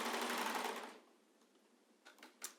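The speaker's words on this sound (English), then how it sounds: "and I'm going to start serging this side." Serger overlock sewing machine stitching along a fabric face-mask edge with elastic held against the serged edge, a loud steady whirring run for about a second before it stops, then a few soft clicks and taps.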